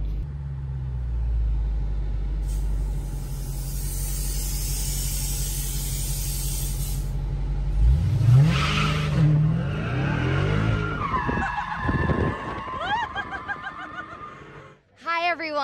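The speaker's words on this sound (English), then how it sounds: "This is our 797 horsepower Dodge Red Eye Charger. We're going to take it for a rip around the track here." Dodge Charger Red Eye with 797 horsepower on a track in Pontiac, Michigan, a loud low engine rumble building then revving and screeching through hard driving, with laughter and excited voices inside the car.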